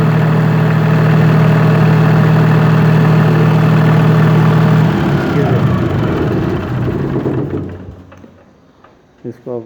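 A diesel generator engine idling steadily with a loud low hum for several seconds, then winding down and stopping after a short circuit shutdown, followed by a few faint clicks.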